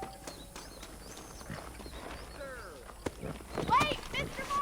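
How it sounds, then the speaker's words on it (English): Horse hooves clip-clop at a walk in the remastered Red Dead Redemption video game, a soft, quiet rhythm under game dialogue. "The horses are saddled up over here"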